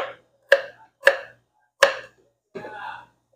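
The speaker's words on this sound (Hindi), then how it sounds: "जिंजर को मैं हाफ पीस लूंगा" A knife cuts through a piece of ginger on a cutting board with four sharp, close chops at an uneven pace, followed by a softer scraping sound.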